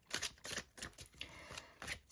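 Tarot cards are shuffled in quick, soft papery riffles and slaps, close and faint, in a series of brief bursts with no talk.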